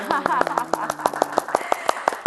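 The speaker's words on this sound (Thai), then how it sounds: "อันนี้ต้องขอปรบมือดังๆเลยนะคะคะให้กับผู้อำนวยการเขต" Applause for a district director at a Thai public service event, with a steady series of sharp claps in an even rhythm over background talk.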